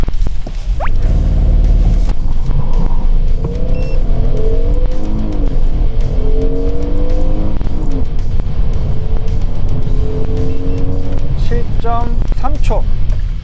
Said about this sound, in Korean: 생각보다 초반에 휠스핀 양이 조금 있어서